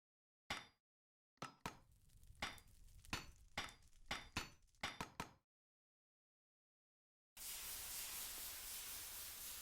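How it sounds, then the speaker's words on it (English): Metal being hammered into a plate in the Minecraft modpack TerrafirmaGreg: a rapid series of sharp metallic clinks and strikes, bright and close, followed by silence and then a steady hissing rush like a fire or furnace. "Weld that and pound it into a plate"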